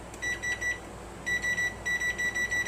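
A kitchen timer beeps in quick groups of four sharp electronic tones, repeating three times with short pauses, clear and close in a quiet kitchen.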